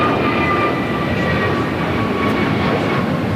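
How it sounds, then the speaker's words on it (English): A Virgin Atlantic Airbus A350-1000 arriving at LAX from London Heathrow produces a loud, continuous jet engine roar with a faint high whine, sustained and close throughout. "Flight 7 coming in from London Heathrow. This is the A350 1000."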